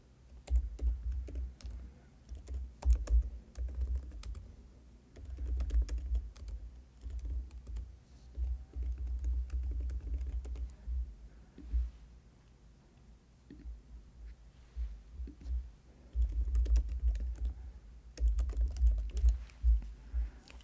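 Steady clicking of a computer keyboard as personal details are entered into an online application form, continuous soft keystrokes with brief pauses and no talking.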